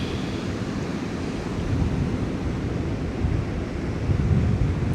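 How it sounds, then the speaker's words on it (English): Strong wind outdoors buffets the microphone in a loud, continuous low roar with gusty surges, and no voices. "It's way windier than I thought it would be."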